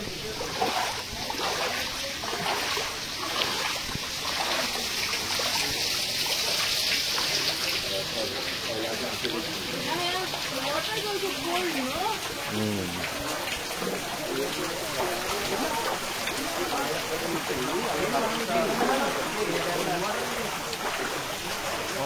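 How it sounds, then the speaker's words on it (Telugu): An artificial waterfall in a Ganesh mandap decoration in Hyderabad, a steady rushing and trickling flow of water under nearby talking voices and crowd murmur. "water falls"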